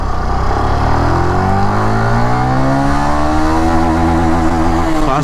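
A Benelli 165S motorcycle engine revs hard and climbs steadily in pitch during a speed test, loud and close, with a gear change near the end.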